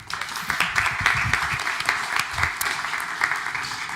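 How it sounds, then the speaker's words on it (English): An audience at a security conference applauds, the individual claps clearly audible in a moderately sized, uneven burst that carries on steadily for several seconds. "you will get an applause"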